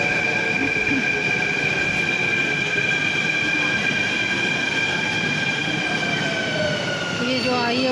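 A Mumbai metro train pulls into a station with a steady loud rumble of wheels on rails and thin high squealing tones from the wheels and brakes, continuous and close, with faint voices underneath.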